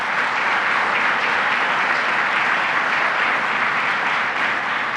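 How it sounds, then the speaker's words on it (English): A large audience at a government announcement event on child care bursts into sustained applause, dense and steady clapping filling the whole stretch without pause. "let's give a round of applause to Syracuse Mayor Ben Walsh"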